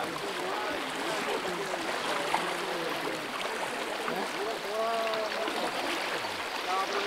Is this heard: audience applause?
no